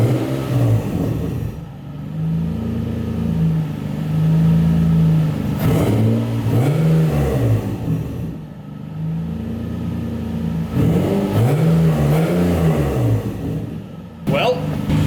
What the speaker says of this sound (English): Let me give it a few revs.